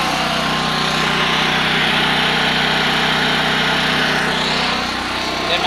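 A Subaru 5500 generator with automatic start runs steadily up close, a loud, even buzzing engine drone that holds constant throughout with no talking.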